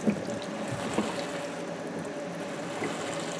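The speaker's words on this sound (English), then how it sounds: "as soon as we see water flowing through" Steady water flow through a garden hose priming a boiler pump, a continuous close gurgling trickle with a couple of small bumps and no talking.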